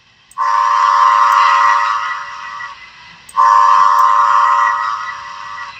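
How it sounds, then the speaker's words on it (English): Two long blasts of a Bachmann 4-6-0 model locomotive's steam whistle through an upgraded speaker at full volume, loud and close, the first about two and a half seconds, the second about three, separated by a short gap. "That whistle's turned all the way up too."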